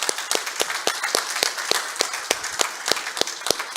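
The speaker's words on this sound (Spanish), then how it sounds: "un fuerte aplauso para ellos" A church congregation applauds two men who are being welcomed, with crisp individual claps standing out in a fairly regular rhythm, close and loud throughout.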